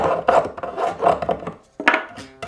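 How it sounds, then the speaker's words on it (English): A wooden block rubbed back and forth along the rough, badly protruding fret ends on a guitar fretboard edge, giving a series of close, raspy scraping strokes with short pauses between them. "if I rub this block of wood on it, it's cutting into the wood."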